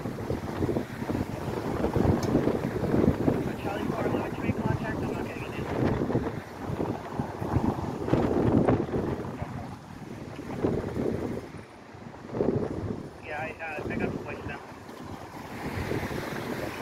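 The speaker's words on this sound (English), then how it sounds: "Might not be able to hear with all the wind, because it is a lot of wind out here." Strong wind buffets the microphone outdoors on a city street by potholes on Tremont Street, a steady roaring rush under a person talking throughout.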